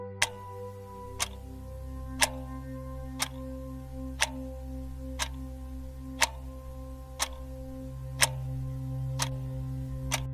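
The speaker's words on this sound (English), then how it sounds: "listened to the sound of the cat clock ticking and the fireplace crackling" A cat clock ticks steadily and sharply, about one crisp click per second, close and alone over a faint low hum in a quiet room.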